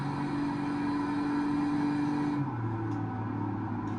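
A Ram 3500 Big Horn with a 7.2L inline-six Cummins turbo diesel, simulated in BeamNG Drive, drones in a steady loud engine hum while towing, its pitch dropping near the end as it shifts.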